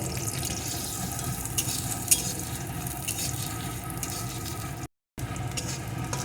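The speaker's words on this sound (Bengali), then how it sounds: "এখন এই তেলের ভিতরে দিয়ে দেবো একটা পেঁয়াজ কুচি" Chopped onion sizzles in hot oil left from frying pointed gourd, a steady crackling hiss with occasional scraping stirs and a brief gap near the end, close and fairly loud.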